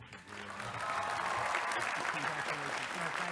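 Sustained applause fills a commencement ceremony as an honorary Doctor of Laws degree is conferred on Governor Schwarzenegger, steady and dense throughout, with a faint voice mixed in beneath the clapping.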